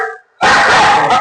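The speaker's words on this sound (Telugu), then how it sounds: "కుక్కల సౌండ్," A solar-powered crop-protection device in a field plays a loud recorded dog bark, a single dense burst after a brief pause and a faint tonal sound beforehand.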